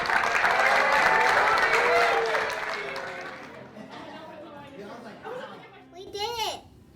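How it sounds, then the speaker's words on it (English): Applause from a school audience, loud and dense at first, then thinning out as children's chatter and excited voices take over. "recognize a big round of applause"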